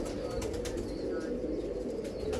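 A pigeon flaps its wings in a short burst of soft, rapid beats over a steady low background rumble, close by.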